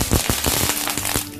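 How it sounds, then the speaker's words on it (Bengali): Mustard seeds and curry leaves crackling in hot oil for a savoury semolina halwa with mushrooms and cashews, rapid loud close pops in irregular bursts with no voices. "তেলটা আমার গরম হয়ে গেছে। এবার আমি এর মধ্যে সর্ষে ফোড়ন দেবো"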